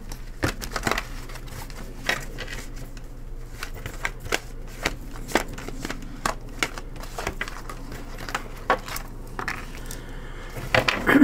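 Tarot cards being shuffled by hand, with crisp riffling snaps and slaps repeating irregularly throughout, close and fairly quiet, with no talking.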